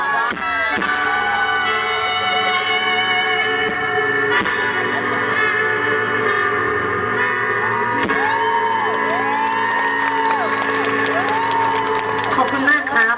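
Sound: audience applause and cheering at a concert

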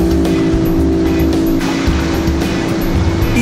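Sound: outboard boat engines running at full throttle

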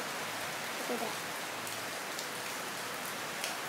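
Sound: heavy rain

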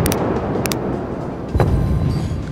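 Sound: battleship guns firing in a naval war video game

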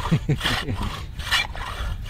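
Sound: hand saw cutting ice

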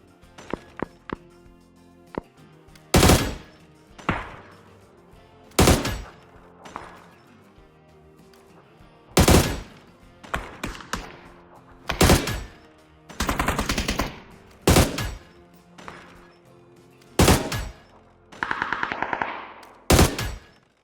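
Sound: gunshots from video game

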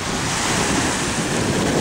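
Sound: sea breeze and surf at Bowman Beach, Sanibel, Florida

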